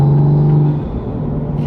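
A manual MK5 Supra's engine accelerates up close, a loud steady drone with a strong low tone that eases and then builds again, with no voices.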